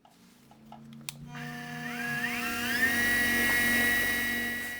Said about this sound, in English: Here I am finishing the bottom bracket shell miter on the down tube.